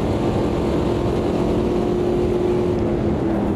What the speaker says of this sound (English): Sound-wise, we've got the big rumbly V8s. Sound like the gargling gravel.